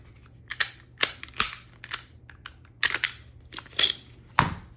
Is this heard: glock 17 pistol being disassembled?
yes